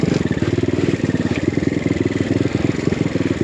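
A BBR KLX170 dirt bike descends a snowy enduro trail, its small single-cylinder engine putting out a rapid, steady, close-up thumping burble at low throttle, loud and continuous with no talk.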